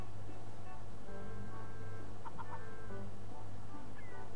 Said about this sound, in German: Und wir hören Gegacker von Hühnern.